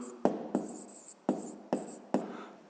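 Pen strokes on paper during a physics exercise, a few separate scratchy bursts at an uneven pace, close and fairly quiet, with no talking.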